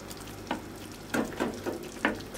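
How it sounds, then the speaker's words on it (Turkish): Carrots sizzling in a pan as half a glass of water is poured in, giving a steady fry hiss broken by several short bursts of spitting and bubbling, close up and without voices. "Şimdi yarım su bardağı su ilave ediyorum."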